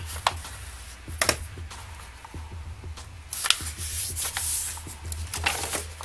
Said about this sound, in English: we're going to fold it diagonally both ways